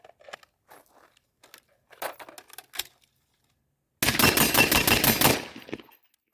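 Rifle gunfire drains a magazine on a shooting range: a dense, loud burst of rapid shots lasting over a second, preceded by scattered quieter clicks and handling noises.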